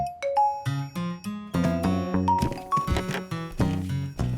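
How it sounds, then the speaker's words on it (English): A melodic doorbell-style chime plays a quick run of bright musical notes, repeating in a lively, ringing pattern. "Did I hear the doorbell?"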